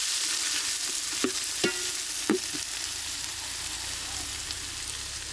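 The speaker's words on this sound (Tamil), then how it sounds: "நல்லா வெங்காயம் நல்லா வணங்கணும், பொன்னிறமாக வணங்கணும்." Onions frying in a pan for an egg masala gravy, a soft continuous sizzle with a few sharp scrapes of the spatula early on, close and with no talking.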